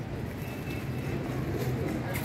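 Soft, low pigeon cooing sits within a busy outdoor background of rumble and faint chatter.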